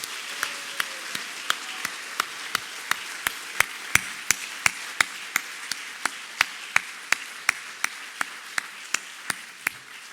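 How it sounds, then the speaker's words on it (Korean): A church congregation at Easter Sunday worship claps in unison, with sharp, evenly spaced claps landing about twice a second in a steady rhythm over quiet room ambience. "우리 부활하신 주님께 영광과 찬양으로 박수 올려드리겠습니다"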